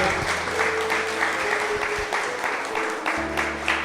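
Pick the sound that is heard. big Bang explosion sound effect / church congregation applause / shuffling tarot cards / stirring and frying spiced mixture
church congregation applause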